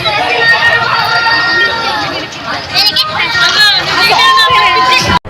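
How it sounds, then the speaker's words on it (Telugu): Crowds shout and scream near the Columbus ride in a park, a loud, dense mix of excited yelling and children's voices with nearby chatter throughout. "విన్నారా కొలంబస్ దగ్గర ఎలా అరుస్తున్నారో"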